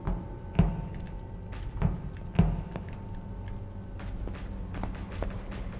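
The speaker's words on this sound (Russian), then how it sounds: "Я слышу чьи-то шаги." Footsteps in a video game, a few heavy thuds spaced about a second apart, then lighter scattered taps over a low ambient drone.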